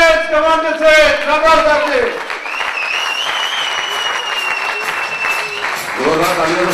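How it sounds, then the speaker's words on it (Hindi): Audience applause at an award celebration on stage, a loud burst of clapping in the middle with speech and music before and after it. "जोरदार तालियों से स्वागत करेंगे"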